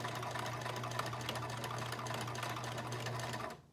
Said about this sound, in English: I have a bad habit of sewing over my pins.